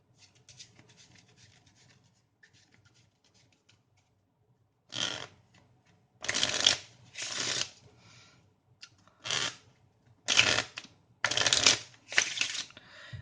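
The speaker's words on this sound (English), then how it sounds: "The spectator can shuffle the card however he likes." A deck of playing cards is shuffled several times in quick riffling bursts, close and crisp, after a few quiet seconds.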